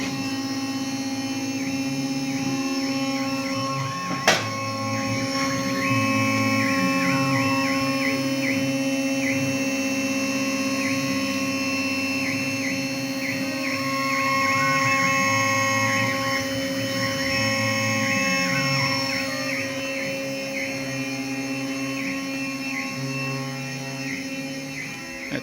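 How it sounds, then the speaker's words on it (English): A CNC router mills a wind tunnel tyre mould in a composite aircraft shop, a steady loud hum with shifting whining tones as the cutter moves, and one sharp knock early on. "It's machining a wind tunnel tyre mould."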